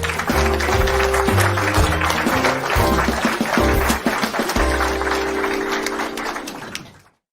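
A round of applause welcomes the special guest on a live drone-hobby show, loud and dense clapping with cheering and music-like tones underneath, fading out near the end.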